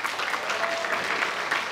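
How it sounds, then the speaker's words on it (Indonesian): A short burst of audience applause at a school event, dense, even clapping from a crowd, fairly loud and steady throughout. "Bisa tepuk tangan dulu teman-teman ya."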